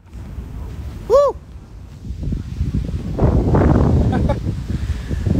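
Wind blows outdoors at an open-air gathering, rising into a rough, buffeting rumble against the microphone in the second half, with a brief whistle early on.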